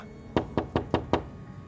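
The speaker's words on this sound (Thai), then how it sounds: "เมื่อมีเสียงเคาะประตูดังขึ้นมา" Five evenly spaced knocks on an office door, sharp and fairly loud against a quiet room, with no voices.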